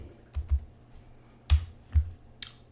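Keys typed on a computer keyboard in a Linux terminal, a few close, separate thumping clicks spread over about two seconds, no talking.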